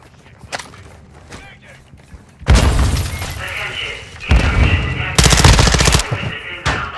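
Bursts of automatic rifle fire in a Call of Duty Warzone match on Al Mazrah crack out in loud, rapid volleys, interleaved with scattered single shots while players shout over the battle.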